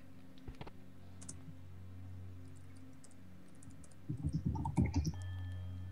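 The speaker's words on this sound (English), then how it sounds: "I also hear typing." Faint typing on a computer keyboard, heard as sparse, quiet clicks that thicken into a short, louder cluster of taps near the end.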